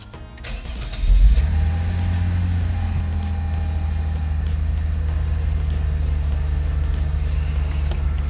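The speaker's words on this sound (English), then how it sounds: "So now we're gonna turn on the car." A 2015 Lexus IS engine cranks and catches after about a second, then settles into a steady, low idle rumble that continues evenly to the end, with no talking.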